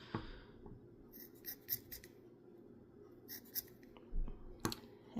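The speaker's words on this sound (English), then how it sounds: "cut it the best I can. I kind of try and cut it in like a circular formation" Scissors snip yarn to shape a pom pom, a series of soft, close, irregular cuts and rustles heard quietly without speech.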